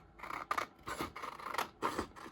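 Scissors snip around a sublimation print on paper, several crisp cuts in an uneven rhythm, close and quiet with no talking.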